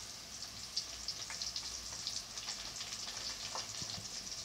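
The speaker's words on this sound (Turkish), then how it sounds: "Şöyle de kızarsın." Cauliflower fries in a pan with a steady, fairly soft sizzle and crackle, small pops scattered throughout.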